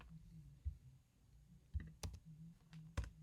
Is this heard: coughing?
no